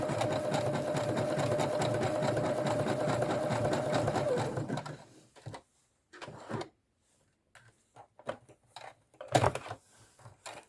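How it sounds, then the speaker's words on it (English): A domestic sewing machine stitches a button onto fabric in a rapid, even mechanical whir for several seconds, then stops, leaving only scattered faint clicks and handling knocks. "then I can use the foot pedal to sew the button on"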